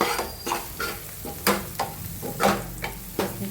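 Turmeric, coriander-cumin powder, asafoetida and salt being stirred into a sizzling pan, a run of rhythmic scraping strokes about every half second over a soft frying hiss, close and without talk.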